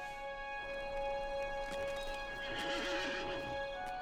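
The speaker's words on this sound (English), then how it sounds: "That is a horse." A horse in The Lord of the Rings Online video game gives a clear whinny, and hooves clip-clop alongside it, heard fairly quietly over a steady musical background drone.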